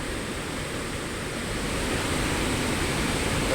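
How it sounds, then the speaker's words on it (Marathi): Dudhpapeshwar waterfall beside a temple pours in heavy rain, a loud, steady, broadband roar of rushing water filling the whole clip without pause, close and continuous with no voices. "दूधपापेश्वर मंदिराच्या बाजूने धबधबा वाहतोय"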